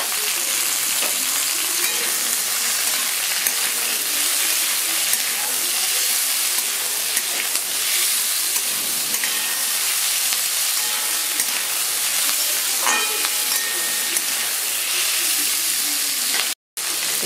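Two tomatoes hit hot oil with whole cloves, cinnamon and cardamom in a pan for butter paneer masala, a loud steady sizzling hiss that runs unbroken throughout, with faint scrapes of stirring underneath.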